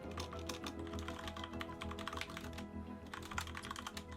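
Computer keyboard typing during a StarCraft match broadcast, a quiet, steady run of rapid clicks over a low hum.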